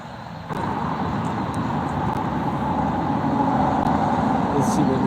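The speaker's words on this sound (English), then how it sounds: "We are right next to the freeway, 91 freeway in Southern California." Steady, dense roar of heavy freeway traffic on the 91 freeway in Southern California, cars, trucks and buses passing close by in a continuous wash of road noise with a brief hiss like an air brake, no pauses throughout.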